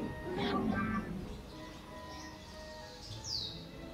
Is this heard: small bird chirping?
yes